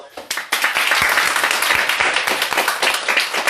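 Audience applause at the end of a talk, a loud, dense burst of clapping that swells quickly and holds steady, with a voice briefly heard under it.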